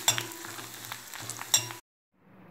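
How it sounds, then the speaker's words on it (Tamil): Curry leaves and garlic frying in oil for a garlic kuzhambu, a close crackling sizzle with a couple of sharp scraping hits, then a sudden cut to silence and a faint return of sizzle. "நெக்ஸ்ட்டு இதிலையே கருவேப்பிலையும் பொரிச்சிடலாம்."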